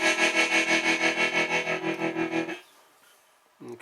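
Guitar tone pulsing through a tremolo effect on a Digitech RP90 multi-effects pedal, a steady rapid throb of sustained chords that rings for about two and a half seconds, then cuts off into near silence before a brief new note.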